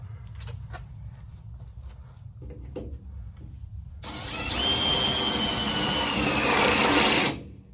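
Power drill with a fresh bit boring into a boat jack plate during installation; after a few quiet taps and knocks, a high whining drill run starts and holds steady for about three seconds before cutting off.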